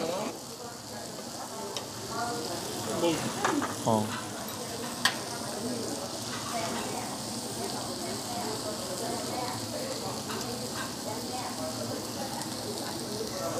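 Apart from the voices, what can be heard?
Iberico black pork frying and sizzling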